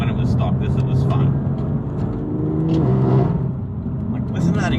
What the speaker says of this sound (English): listen to that exhaust on stock back box